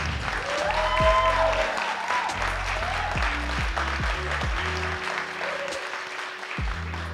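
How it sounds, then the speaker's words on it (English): Audience applause for a business panel's panelists, a steady wash of many hands clapping that holds for several seconds at moderate loudness over low music, with no talk on top. "can we get a round of applause for our panelists, please?"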